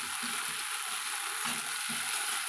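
Ginger garlic paste sizzles and fries steadily in a pan while chilli parotta is cooked at home. The frying is a soft, even hiss with faint stirring scrapes under it, and no one speaks.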